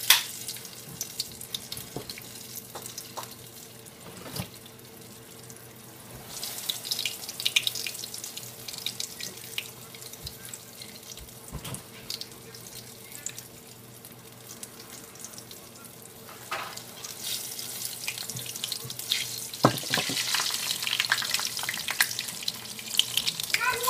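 Chiles rellenos frying in hot oil, a steady close crackling sizzle that swells louder toward the end, with occasional sharper pops.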